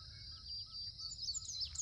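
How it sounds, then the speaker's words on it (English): Small birds sing and chirp at a Tennessee state park, with thin high trills and tweets at moderate distance over a faint low rumble, brief and continuous. "Birds everywhere."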